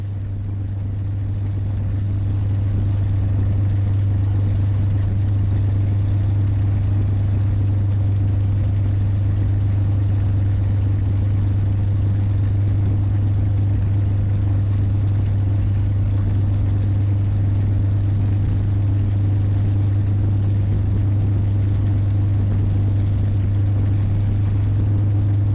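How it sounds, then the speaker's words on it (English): WWII P-51D Mustang fighter engines in formation flight give a loud, steady droning hum that holds unbroken for the whole stretch, with no voices. "It's better to watch them than fly them because the sound, especially when you got a multiple airplane formation,"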